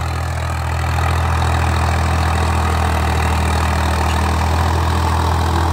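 A Swaraj 855 FE tractor engine drones loud and close while pulling a harrow through hard, compacted farm soil, a dense low rumble holding steady throughout.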